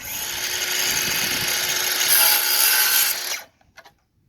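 Stucco moulding being cut to a 45-degree miter gives a steady, loud grinding rasp for about three seconds that cuts off abruptly, followed by a couple of faint knocks.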